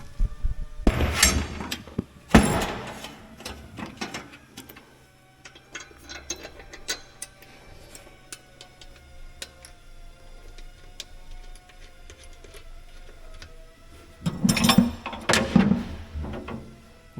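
A ratchet wrench clicks and clacks on bolts of a John Deere 850J dozer, with bursts of metallic tool handling and rapid ticking at the start and near the end, quieter mechanical clinks between.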